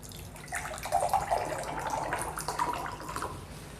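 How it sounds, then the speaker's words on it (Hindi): RO water pours into a glass in a short steady trickle, a faint splashing stream lasting a few seconds with no talk. "एक में हम दे रहे हैं आरओ का पानी"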